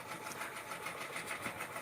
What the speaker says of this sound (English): I was using my other sewing machine, the one back here, this one. And she works like a charm.